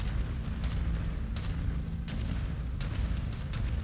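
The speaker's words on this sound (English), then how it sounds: "the AI is firing at something" In MechWarrior 5: Mercenaries, an AI-controlled mech fires its weapons, producing a continuous low rumbling roar punctuated by repeated sharp blasts at irregular intervals.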